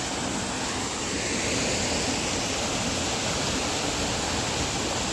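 Buttermilk Falls pours with high water, a constant broadband rush and roar of falling water heard up close, steady and loud throughout with no pauses or talk.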